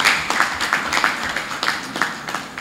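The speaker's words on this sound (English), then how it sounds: "So let's clap for Lagos State once again." A crowd applauds with dense, steady clapping that fills the space, moderately loud and continuous throughout.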